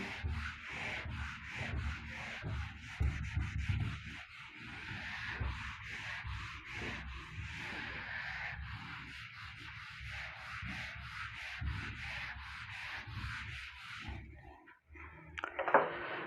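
Writing being rubbed off a classroom board during a maths lesson: long, steady scrubbing strokes of an eraser, close and continuous, easing briefly near the end before a last few rubs.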